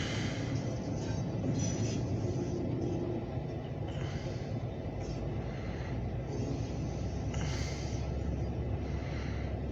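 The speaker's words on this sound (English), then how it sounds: "We got a light power train at the Oil Creek Plastics." A light power freight train at Oil Creek Plastics rumbles past at a distance, with a faint, steady low rolling drone, soft clanks and hiss across the whole stretch and no voices.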